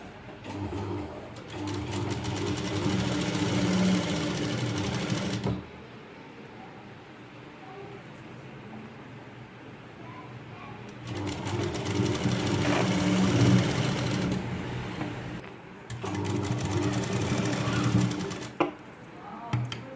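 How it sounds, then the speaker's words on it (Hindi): A sewing machine stitches a Rajputi lehenga in three long runs of close, steady whirring separated by pauses, with pigeons cooing faintly in the background. "इसको उल्टा करके हम सिलाई लगा लेंगे"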